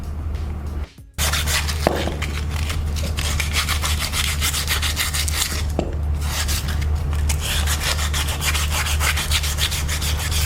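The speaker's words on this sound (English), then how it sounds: "we're using some sandpaper, fine sandpaper to smoothen the axle, okay, to clean it really good" Fine sandpaper rubbing a car's front wheel axle during a wheel bearing replacement, a continuous rhythmic scratchy back-and-forth grinding, close and steady, with a brief pause near the start and an engine-like hum beneath.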